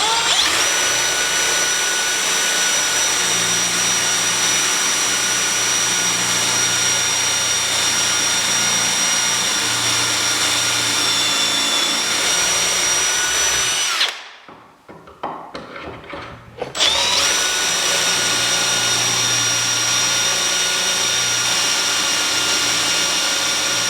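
A power drill bores pocket screw holes in MDF through a Trend pocket screw jig, whining loudly and continuously for a long stretch, then briefly stopping before a second sustained burst of drilling.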